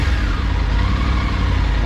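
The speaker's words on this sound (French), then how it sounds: "le petit glougloutement du moteur là" A Triumph Tiger 850 adventure motorcycle engine burbling, a steady low rumbling drone close by with a continuous even texture throughout.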